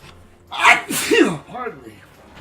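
A single sharp sneeze from a person, loud and close, followed right after by brief speech.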